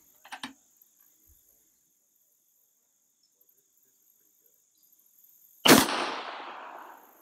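A single loud rifle shot at a whitetail deer cracks out near the end, leaving a decaying echo, after a quiet outdoor stretch with faint ticking and a brief knock early on.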